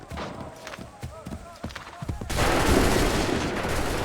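Musket volley gunfire in Assassin's Creed III, a loud crackling burst of many shots that swells into sustained noisy roar after a stretch of quieter shuffling and clatter, with shouted voices around it.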